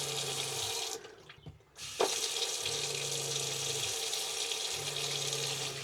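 Hot water runs steadily from a tap, a continuous close splashing hiss that briefly cuts out and surges back, with faint low humming that comes and goes underneath.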